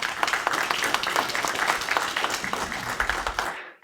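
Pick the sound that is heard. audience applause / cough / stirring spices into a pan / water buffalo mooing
audience applause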